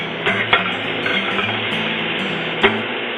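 Onion and garlic cooking in a pan with Brussels sprouts, giving a steady loud sizzle with a few sharp clinks of a utensil against the pan.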